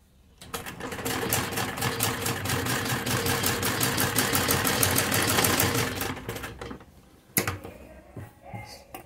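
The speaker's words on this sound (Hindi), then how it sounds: "फिर दूसरी तरफ से भी ऐसे ही सिलाई लगाकर" A sewing machine runs a fast, even stitching burst along a sleeve seam, close and loud for several seconds, then stops, followed by a few brief clicks and handling sounds.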